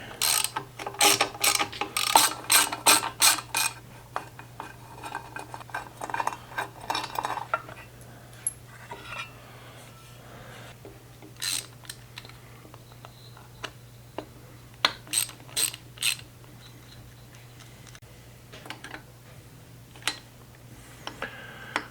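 Ratchet wrench loosening the ignition coil on a chopper motorcycle engine: close, crisp bursts of fast ratcheting clicks, dense early then in shorter spaced runs, over a faint steady hum.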